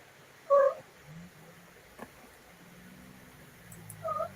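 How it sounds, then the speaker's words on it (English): A house cat makes a few short meows, one clear call near the start and another at the end, with a faint low purr between them in a quiet room. "What is that noise? Probably my cat."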